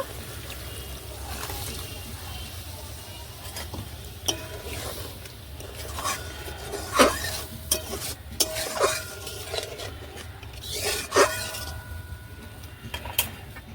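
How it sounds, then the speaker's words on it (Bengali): Hot water is added to a frying Hyderabadi-style paneer masala in a pan, giving a steady sizzle with repeated sharp clinks and scrapes of a spoon stirring against the metal pan. "পনিরটা ভিজিয়ে রেখেছিলাম যেই গরম জলে, সেখান থেকে অল্প একটু জল দিয়ে দেব"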